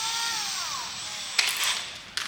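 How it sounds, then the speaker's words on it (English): A power drill whines while drilling holes for Tier One 100/105 series roof rails mounted on a CSS 1.3 roof tent, its pitch sliding down as it spins down, followed by a couple of sharp metallic clicks. "Now I'm going to go along and I am going to drill all the holes."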